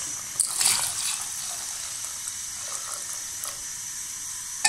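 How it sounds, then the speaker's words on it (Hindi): Cold water pours from a tap into a pot of green tea being made into Kashmiri pink chai, a soft steady gushing stream with a few splashy bumps near the start and the end. "अब इसके अंदर हम 3 गिलास ठंडा पानी ऐड करेंगे।"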